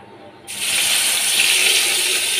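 Whole spices, cloves and cumin seeds hit hot oil with a sudden loud hiss that starts about half a second in and keeps going as a steady, close, bright sizzle.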